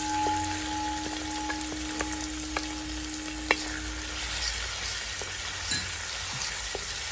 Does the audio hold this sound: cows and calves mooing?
no